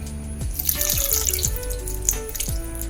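Soaked tamarind water poured from a vessel into a cooking pan while making a Kerala ivy gourd theeyal curry, a steady close-up splashing stream running for a few seconds with no talking.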